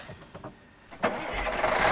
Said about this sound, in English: good old diesel sound